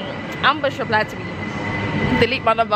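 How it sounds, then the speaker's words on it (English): Train noise at London Victoria Station, a steady rail rumble with a faint sustained tone, heard under close conversational speech. "that's the train that we're catching"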